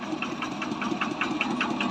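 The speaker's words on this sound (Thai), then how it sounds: "มาพร้อมกับเครื่องยนต์คูโบต้า ET 110" A Kubota ET 110 single-cylinder diesel engine on a Thai farm truck runs steadily at idle, its even, rapid knocking beat close and alone with no talk.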